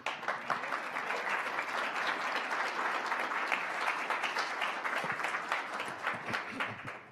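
An audience applauds steadily for several seconds, a dense crowd clapping at even loudness that tapers slightly toward the end.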